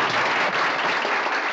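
Dense, steady applause from an audience at a festive wedding-style celebration, a continuous wash of many hands clapping close and loud with no break across the moment.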